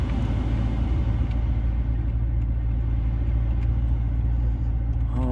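Maserati Quattroporte Sport GTS engine heard from inside the car as it pulls away at a green light, a dense, steady low rumble that stays loud and constant throughout, with no voices.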